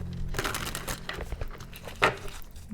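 Tarot cards rustle and riffle close by in quick papery bursts, with a sharper flutter near the end and no talking.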